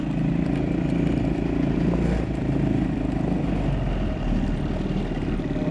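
A 150cc full-suspension go kart engine running while the kart backs up, a steady loud rattling drone with a slight rough flutter, close by and with no talking.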